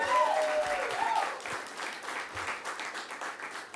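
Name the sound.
audience applause at flag ceremony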